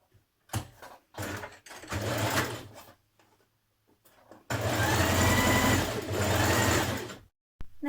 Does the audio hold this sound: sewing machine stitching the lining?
yes